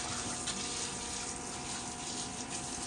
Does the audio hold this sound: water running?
yes